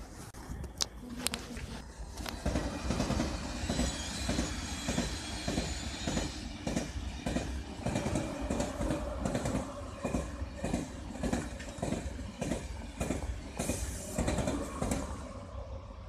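Two coupled TGV high-speed trains, including set 11-01, run past close by with loud rolling rumble, rhythmic clickety-clack wheel beats and occasional wheel squeal, lasting throughout without talk.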